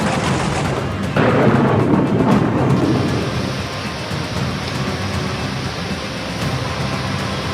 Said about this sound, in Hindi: कहीं बारिश प्रचंड